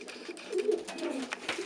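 Pigeons feeding their young chicks, soft low cooing murmurs with faint rustling, moderately close and steady over a quiet background.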